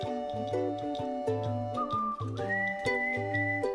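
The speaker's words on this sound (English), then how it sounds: "I didn't know the whistle was coming." A whistle sound effect in a podcast, a bright tonal whistle sliding between pitches in a quick melodic phrase, clear and fairly close, with light ticking accents and no talk over it.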